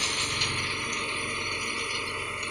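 A truck's jack is worked during unloading in a steady run of fast mechanical ratcheting clicks, close and fairly loud, over a low droning hum with no voices.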